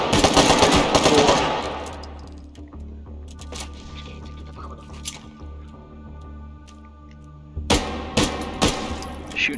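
Gunfire from a VR shooter game set in an Escape from Tarkov mode: a dense burst of rapid shots opens, then a low humming lull, with sharp clustered shots returning near the end.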